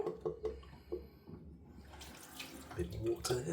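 Tap water runs into a bathroom sink during a wet shave, splashing and trickling in uneven bursts at close range, with faint handling clatter and brief moments of quiet between flows.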